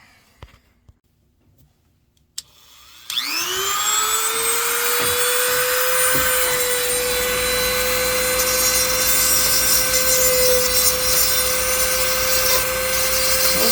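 Power sanding takes rust off the metal of a 1967 Camaro, starting abruptly after a near-silent few seconds, then running as a loud, steady whining grind with a sustained tone that holds for the rest of the stretch.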